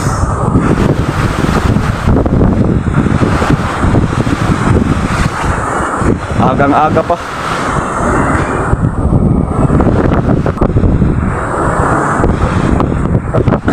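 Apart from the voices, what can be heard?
sea waves and wind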